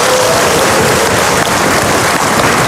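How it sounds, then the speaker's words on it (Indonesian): Loud, dense wash of audience applause at a live event, steady and unbroken for a few seconds with no talking over it. "Luar biasa tepuk tangan."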